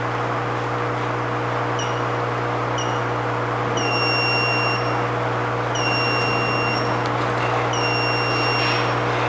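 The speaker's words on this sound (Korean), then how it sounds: "시간이 지나 63도가 되면 삐삐 경고음이 들린 후 벽시를 넣으라는 안내 방송을 합니다" A machine sounds a repeated electronic warning beep on reaching 63 degrees, paired high tones recurring every second or so, lengthening into longer beeps, over a loud steady mechanical hum.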